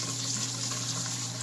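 Steady water running from a tap while hair is rinsed, lukewarm rather than hot, a continuous close hiss with no talk over it.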